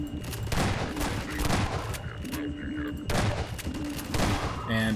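Rapid bursts of gunfire in the Half-Life 2 video game, several loud volleys in clusters with short pauses between, fairly close and dense.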